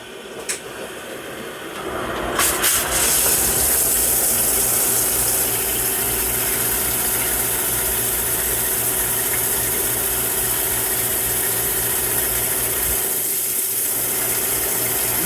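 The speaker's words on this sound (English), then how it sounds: "Now it's going to index, drill." A Mazak CNC lathe indexes and drills 316 stainless steel bushings, a steady loud mechanical whir with hydraulic pump drone and a constant hum, brief clicks early as the spindle spins up, then continuous machining noise throughout.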